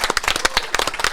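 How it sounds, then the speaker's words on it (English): Brief burst of clapping from a dinner audience at a live sports show, a dense round of hands close by with no talk over it. "give them a round of applause out there"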